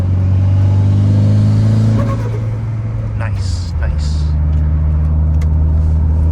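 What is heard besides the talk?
turbocharged car engine revving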